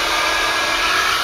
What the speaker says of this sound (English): we're gonna put the hair dryer into the hot thing